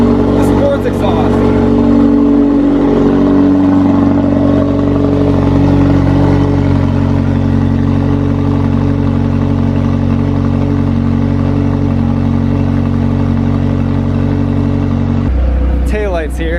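A McLaren 720S supercar exhaust rumbles loudly and steadily up close, a deep sustained engine drone with slight shifts in pitch, then cuts off abruptly near the end.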